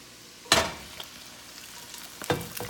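Cooked pasta lands in hot oil with anchovy, giving a sharp sizzling burst followed by a quieter fry and a second loud crackling surge as it is tossed.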